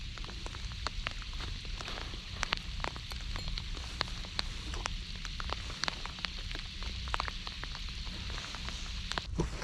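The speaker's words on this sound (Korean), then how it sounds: "갑자기 또 비가 많이 오네요" Heavy rain pours steadily on a fishing spot, a continuous close patter of drops with scattered sharper taps, even and unbroken throughout.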